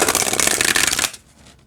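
A deck of Earth Song oracle cards with copper foiling is riffled once in a quick papery burst of flicking and rubbing lasting about a second, then stops abruptly into quiet.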